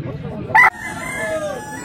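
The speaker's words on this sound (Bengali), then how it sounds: "এটা হাসিল মোরগ" A large Aseel rooster at a village market lets out a sharp crow that rises and then trails off. The crow is loud and close, with faint market background behind it.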